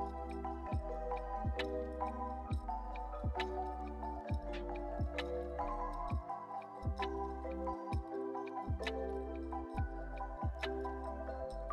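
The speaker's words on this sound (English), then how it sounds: "Soak them in water for 10 minutes, then squeeze gently to remove excess water before transferring in the moss bins." Soft wet squishes and drips repeat in a steady rhythm as soaked moss is squeezed by hand to press out water, close and quiet with no talking.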